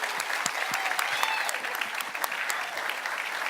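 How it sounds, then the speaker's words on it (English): A crowd claps steadily in a room, producing an even wash of applause with a few sharper individual claps standing out, no speech over it. "Let's give them a round of applause real quick."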